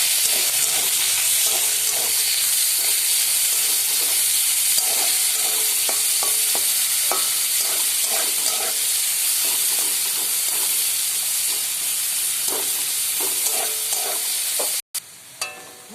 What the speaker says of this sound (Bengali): এবার এর মধ্যে পেঁয়াজ দিয়ে দেব, কুচিয়ে রাখা।